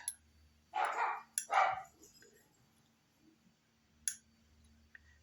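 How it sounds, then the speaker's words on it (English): A dog barking indoors, two quick loud barks followed by a couple of fainter short yips, somewhat distant, in an otherwise quiet room. "That's my dog."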